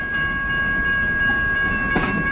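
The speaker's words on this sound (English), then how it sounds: "There goes the train." A train passes at steady, loud volume, with a continuous rumble and rail noise and a sustained tonal whine running throughout. A brief extra burst comes near the end.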